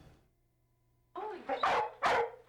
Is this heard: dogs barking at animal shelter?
yes